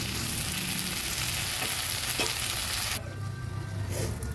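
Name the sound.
chillies frying in a pan for banana flower curry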